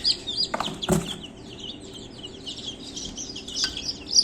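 Light-colored baby chicks cheep in scattered high, thin chirps, some bunched at the start and end, with a couple of soft thumps in between and no talking.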